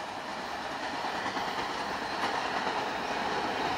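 Norfolk Southern freight train NS206 rolling past at a steady roar, wheels clattering continuously on the rails, loud and close throughout with no pause.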